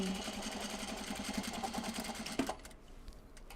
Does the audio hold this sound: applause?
no